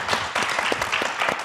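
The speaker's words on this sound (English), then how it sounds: "But one last applause for Judge." An audience gives a final round of applause for Judge Dennis Davis at an in-conversation event, a dense, continuous burst of clapping heard close and fairly loud for a moment.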